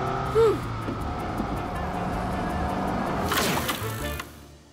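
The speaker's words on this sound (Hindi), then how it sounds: "गाड़ी तो रेंग रही है।" A car creeps along slowly in low gear, its engine a steady low hum with faint road noise and a brief bump near the start, fading slightly at the end.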